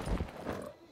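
Horse hooves clopping briefly in the video game Far Cry 6, a couple of soft low thuds within a second, faint and close.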